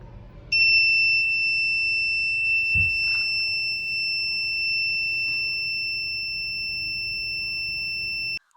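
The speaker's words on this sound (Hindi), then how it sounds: "हमारा गैस सेंसर गैस को डिटेक्ट करता है तो एलईडी भी ऑन हो जाती है और बज़र भी ऑन हो जाता है।" An Arduino project's piezo buzzer sounds off when its MQ gas and smoke sensor detects gas in a closed room. A steady, piercing high-pitched tone begins abruptly, holds unbroken for about eight seconds, then cuts off.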